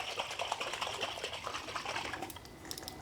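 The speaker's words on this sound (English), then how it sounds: "I'm gonna put the lid on it and shake it around" A lidded jar holding Alfredo sauce and chicken broth is shaken hard, its liquid sloshing and splashing in a steady rapid rhythm up close for a few seconds before easing.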